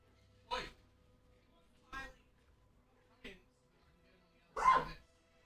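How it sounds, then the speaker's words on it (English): A dog barks four separate times outside, sharp single barks spaced a second or so apart, the last one louder and longer, against a quiet room. "What's the dog doing? There's another person walking their dog and they're just outside."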